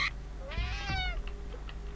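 A single cat meow from the video game Friday the 13th: Killer Puzzle, one drawn-out mid-pitched call standing out clearly over a faint background hum.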